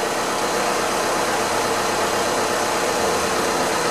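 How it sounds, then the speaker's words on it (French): An Audi Q3 2L TDI diesel engine running steadily during DPF cleaning with a cleaning machine, a constant loud hiss-laden drone with no change in pitch. "Il ne faut jamais couper le moteur dans la phase de nettoyage."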